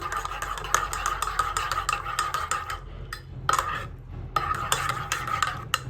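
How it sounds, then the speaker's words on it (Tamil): A spoon stirring hot bullet coffee with ghee in a cup, quick repeated clinks and scrapes against the sides in bursts with brief pauses, close and fairly loud over a low background hum. "இப்போ நல்லா இந்த கீ வந்து மெல்ட் ஆகிற வரைக்கும் மிக்ஸ் பண்ணணும்"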